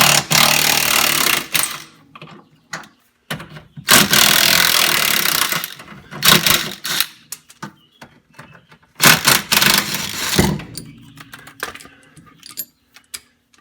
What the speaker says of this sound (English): now I'm going to remove the sway bar, these two and the two on the other side,